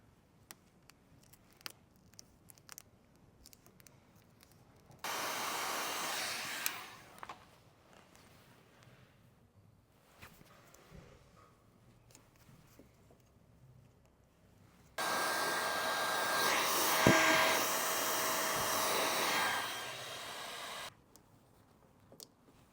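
A heat gun softens carbon fiber paint protection film on a car around an installed headlight, blowing in two loud, steady bursts of airy whine of about five seconds each. Quiet rustling and handling sounds fill the gaps.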